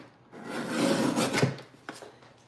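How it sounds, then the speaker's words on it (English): A paper trimmer blade slides through card stock for a card base, cutting it in half in one rasping stroke of about a second, close and fairly quiet, with a small tap after it. "so I'm gonna cut this in half. I have my other trimmer right here too"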